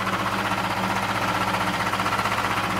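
A steady, rough diesel engine of an Air Diesel three-wheeled motocarro idles and chugs continuously with a low rhythmic knocking throb, fairly close, with no voices.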